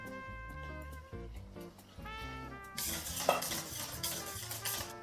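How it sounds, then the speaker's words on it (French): Custard cream stirred in a pan, a spoon scraping and clinking against the pan under background music, the stirring growing louder and busier partway through. "Il faut toujours remuer parce que c'est très fragile"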